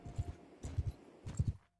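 Horse hooves clip-clopping in Mount and Blade II Bannerlord while riding, three quick bursts of paired thuds at a steady gait, fairly close and moderately loud, with no talk.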